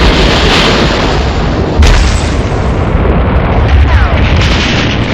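German artillery shells explode in a dense, continuous barrage of booming, rumbling blasts that fill the whole stretch at close, heavy volume.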